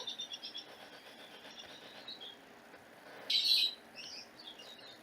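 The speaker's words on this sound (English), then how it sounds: "you're hearing all the birdies outside" Birds chirp outdoors, heard indoors as faint, scattered tweets, with one brief louder call standing out near the end.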